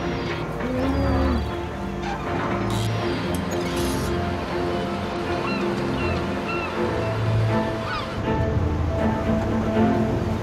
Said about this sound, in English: The 20-minute boat ride that takes them to the continent